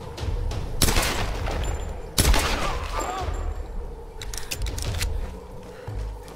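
Gunfire in the Tomb Raider video game: a few sharp, loud shots crack out early, with a steady bed of game ambience and rumble between them.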